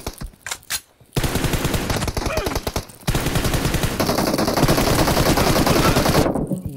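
Sustained rapid automatic gunfire from PUBG Mobile in a one-on-one team deathmatch, loud dense bursts after a brief lead-in of spoken words, with a short gap before the rattling fire resumes and runs on.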